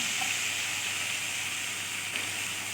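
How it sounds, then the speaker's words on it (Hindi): Garlic ginger paste frying in hot oil in a pan gives a steady, close, moderately quiet sizzle with an even hiss throughout and no voices. "सबसे पहले इसमें हमने लहसुन अदरक का पेस्ट डाल लेना और इसको अच्छी तरह हमने भून लेना"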